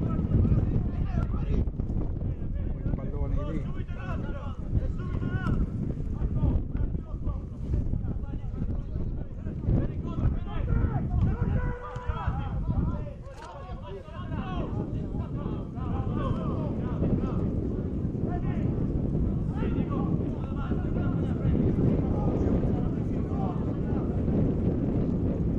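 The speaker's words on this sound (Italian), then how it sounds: "è un vento che dà fastidio perché è un vento freddo" Cold wind buffets the microphone at an outdoor Primavera 2 youth football match between Parma and Venezia, a loud, continuous low rumble lasting the whole stretch, with a commentator talking over it almost throughout.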